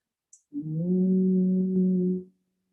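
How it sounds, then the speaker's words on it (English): Several people hum together on a long exhale during a seated chair yoga session, a steady low drone with a clear harmonic that swells in and holds for nearly two seconds before fading. "as we make the humming sound, it lengthens our exhale"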